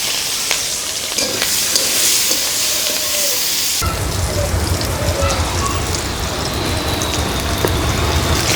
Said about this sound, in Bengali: ভেজে রাখা তেলের মধ্যে দিয়ে দিচ্ছি পেঁয়াজ, দিয়ে দিচ্ছি কাঁচামরিচ,